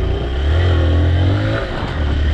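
A motorcycle engine strains and revs hard while bogging down in soft, loose sand, loud and close with a wavering, labored drone that rises and dips.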